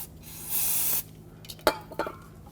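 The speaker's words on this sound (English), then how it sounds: "If there is any, you can use some brake parts cleaner and rinse it" Aerosol can of brake parts cleaner sprayed onto a rear brake caliper of a 2000-2005 Ford Excursion during a brake hose replacement, a single half-second hiss followed by a few faint clinks, close and quiet.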